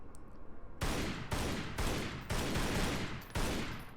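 Rapid gunfire from the video game Tomb Raider Anniversary, set at St. Francis Folly: five loud, close bursts follow one another after a quiet start, each a dense crackling volley with no talk over it.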